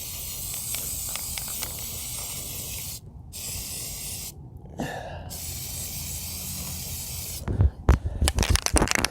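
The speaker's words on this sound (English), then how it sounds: "that's how you spray the pick and pluck foam with Plastidip" Bursts of aerosol Plasti Dip rubber coating spray onto pick-and-pluck foam, hissing steadily with short pauses between them, ending in a few clattering knocks and handling noises.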